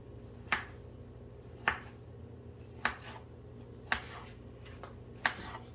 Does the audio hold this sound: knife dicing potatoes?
yes